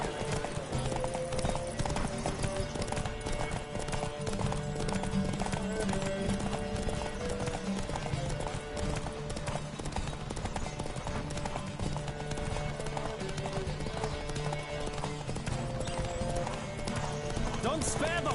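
Horse galloping in The Witcher video game, a rapid, continuous clip-clop of hooves running throughout, with game music and voices talking over it.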